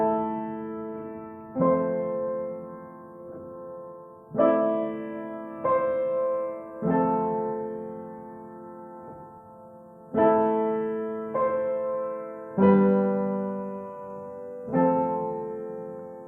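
Piano plays a slow sequence of sustained chords with a melody on top, each struck chord ringing out and fading before the next, about eight in all.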